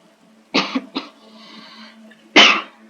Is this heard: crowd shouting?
no